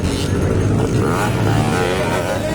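A motocross motorcycle engine drones steadily and loudly at a dirt-track race in Pangantukan, Bukidnon, with pitch shifting as the rider works the throttle; a faint voice may sit underneath.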